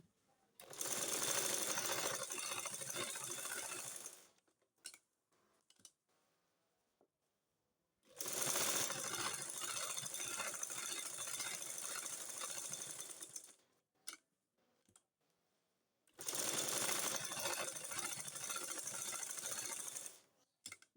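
A sewing machine stitches a pleated burqa in three long, steady runs of rapid mechanical clatter, each several seconds, separated by quiet pauses with small clicks.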